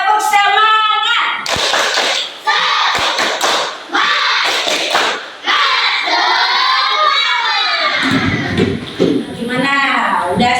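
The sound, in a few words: classroom children doing a spirit clapping chant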